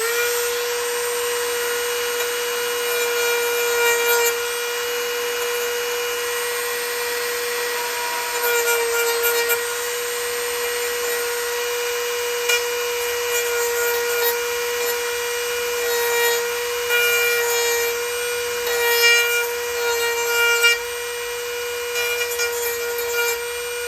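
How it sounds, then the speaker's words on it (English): A Dremel rotary tool fitted with a small flap wheel shaves down the rear fender of a 2009 Police Special motorcycle: a steady, high-pitched grinding whine runs continuously and loudly with small fluctuations as pressure changes, and no voices are heard. "It's working, but the Dremel spins pretty fast"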